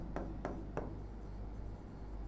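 Pen or marker writing notes on a board or paper during a current affairs lesson, three quick strokes near the start followed by softer continuous scratching, close and quiet with no talk.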